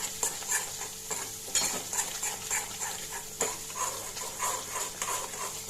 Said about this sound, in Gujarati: આપણે હલાવતા રહીશું